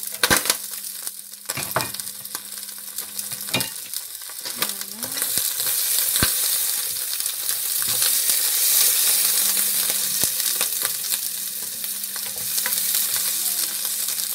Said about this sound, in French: Je vais commencer par frire mes oignons